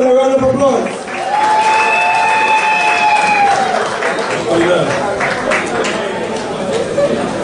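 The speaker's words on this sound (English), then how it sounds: "Welcome him with a round of applause." A community centre audience at a political speech breaks into applause mixed with crowd chatter and cheering, steady and fairly loud for several seconds, with voices rising over the clapping.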